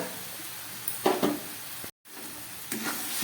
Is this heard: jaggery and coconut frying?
yes